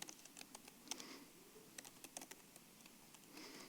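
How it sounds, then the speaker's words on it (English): Rapid typing on a computer keyboard, irregular clusters of light clicky keystrokes with brief pauses, close and fairly quiet, no voices. "Excuse my typing."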